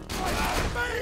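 Turret fire in a video game, a dense rapid burst of shots filling the whole second, loud and continuous.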